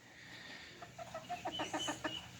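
A small bantam hen clucks in a rapid run of short, close, fairly quiet calls that quicken and bunch together, with no talking over them.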